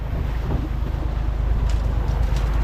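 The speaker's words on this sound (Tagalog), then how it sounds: "Pinaandar na po ni Kapitan ang makina." A fishing boat engine runs at sea on a tuna bait-fishing trip, a steady low drone and hum with wind buffeting the microphone, loud and continuous throughout with no talking.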